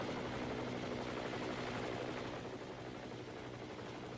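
A helicopter in the survival game Next Day: Survival, a steady chopping rotor drone at moderate distance that holds level throughout and eases slightly toward the end, with no speech.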